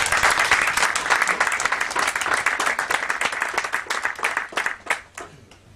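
An audience at an RCK forum in London bursts into dense, sustained applause, many hands clapping together loudly before the clapping thins out and fades near the end.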